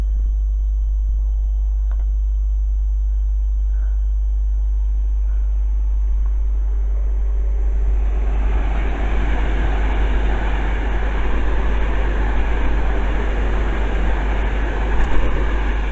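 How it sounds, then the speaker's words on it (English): Avanti West Coast Class 390 train passing through Cheddington station, a steady broadband rushing roar swelling from about halfway and staying loud and close to the end, over a faint quiet start. "the next gen pass by is Avanti West Coast Class 390"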